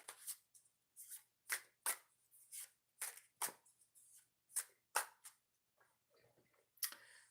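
Oracle cards being shuffled by hand, a close series of crisp riffling and snapping bursts with short gaps between them, quiet and otherwise alone.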